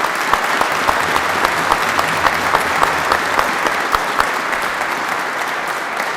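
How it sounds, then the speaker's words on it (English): Sustained applause from a ceremony audience honoring the FDNY at a public safety award event, dense steady clapping with a few sharper claps standing out, filling the room alone without talk. "How about another round of applause for the FDNY?"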